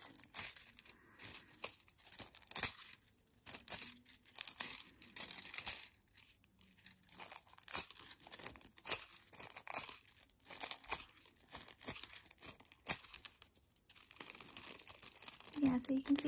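Nail foil being handled for glitter mermaid nails, close crinkling and crumpling rustles in irregular bursts with soft tearing sounds, mixed with a quiet voice talking at times.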